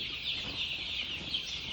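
A dense flock of poultry-farm chicks with colds chirps continuously, many high, thin calls overlapping into a steady chattering chorus with no pauses.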